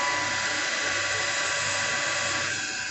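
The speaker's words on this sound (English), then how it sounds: "Powering on the lathe, and you can do the first one manually." A lathe runs at 1200 RPM while machining a bushing, giving a loud, steady high-pitched whine that continues without a break.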